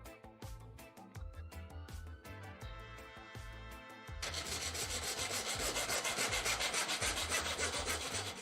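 Tubing is cut with a hand saw or miter saw in a run of quick rhythmic rasping strokes, close and moderately loud, growing denser and more continuous halfway through, with no speech.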